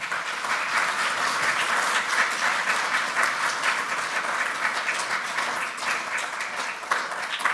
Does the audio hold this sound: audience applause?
yes